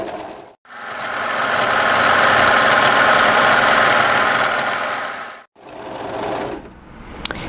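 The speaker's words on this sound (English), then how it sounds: "we're not going to cut any fabric off with our blade, we're just going to sew directly on the edge of our garment seam" An overlocker sews along the seam allowance edge of a sweatshirt without trimming fabric: a loud, steady mechanical whir runs for about five seconds, stops briefly, then starts again for a shorter burst.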